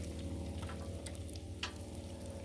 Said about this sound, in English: And our bacon will continue to crisp.